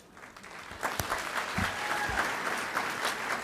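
An audience at a comedy show applauds, clapping building from a few scattered claps into a full, sustained round that stays steady to the end, with no talking.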